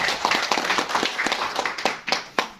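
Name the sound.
audience applause for the PAC members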